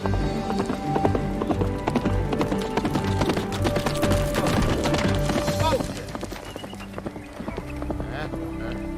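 A big black horse clip-clops along at a steady walk in a Western setting, the regular hoofbeats mixed with a busy backdrop of creaks and movement, fairly close and loud throughout.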